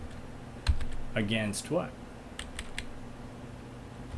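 Keys clatter on a computer keyboard in a few quick bursts, close and fairly clear, with someone speaking briefly in between; the typing happens while he writes assembly code for a calculator program.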